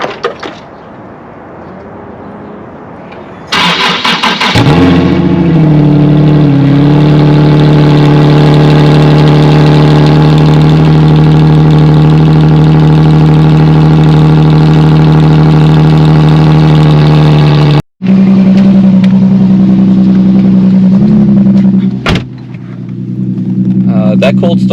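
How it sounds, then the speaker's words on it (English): An Infiniti G37 with an exhaust leak, parked in snow, cranks over and fires into a loud cold-start idle with a steady low drone that holds after a brief cut, close and continuous. "That cold start was surprisingly not that loud, considering I have an exhaust leak."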